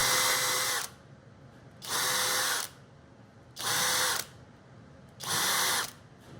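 A power drill bores holes through a wooden router table jig in four separate bursts of high whirring, each about a second long with short quiet gaps between, close and clear with no talking.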